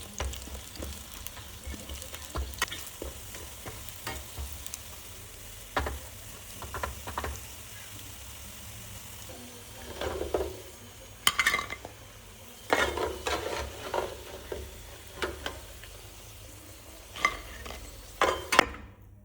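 Shrimp fry in fat in a pan for a stir-fry with bitter melon, with steady sizzling broken by scraping stirs and clinks of a utensil against the pan.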